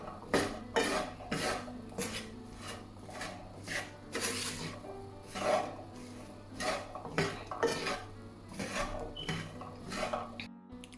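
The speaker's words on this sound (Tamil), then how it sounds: "அடுப்பை இனி ஆஃப் பண்ணிட்டு எல்லாத்தையும் சேர்த்து மிக்ஸ் பண்ணி விட போகிறேன்" A spoon scrapes and clanks against a pan in repeated sharp strokes as Jaffna-style spicy chickpeas are mixed with raw onion, chili, raw mango and curry leaves after the stove is turned off, fairly close with no talk.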